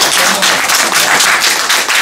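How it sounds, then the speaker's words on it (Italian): Loud, close clapping from a group at an Italian calendar presentation event, dense and continuous for two seconds. "Un applauso"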